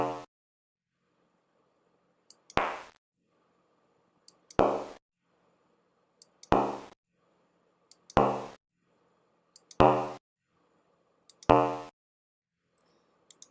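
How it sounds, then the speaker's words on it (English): Simulated strikes on a mathematical drum model: six evenly spaced, sharp, hollow plops about two seconds apart, each decaying quickly into silence, clean and moderately loud. "you should hear the sound of striking this mathematical drum"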